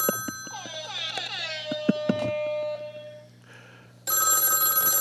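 A telephone bell rings in a podcast studio, a bright sustained ring bursting in near the end after brief talk and knocking sounds, loud and close.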